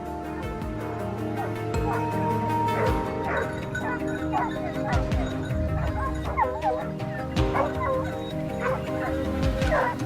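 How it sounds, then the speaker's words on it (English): Hunting dogs barking sharply and repeatedly, some yips and whimpers mixed in, in a rural setting during a wild boar hunt on a Texas farm; several dogs sound fairly close with irregular overlapping barks over a steady background drone. "the sharp barks of the hunting dogs ring out"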